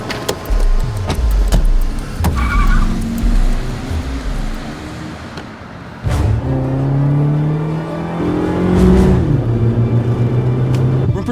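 A silver Dodge Neon speeds away in a movie chase scene, its engine revving and rising in pitch through several gear changes, loud and close, with sharp clunks and road noise around it.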